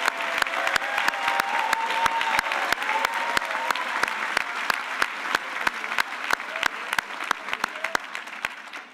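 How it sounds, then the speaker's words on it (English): Commencement audience applauding a graduate at a 2018 college graduation: a sustained round of crowd clapping, with one nearby pair of hands beating a sharp, regular rhythm throughout before it tapers off at the end. "Please give a hearty round of applause"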